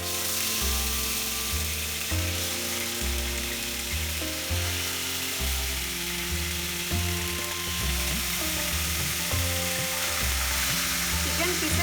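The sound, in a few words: chicken pieces frying in vegetable oil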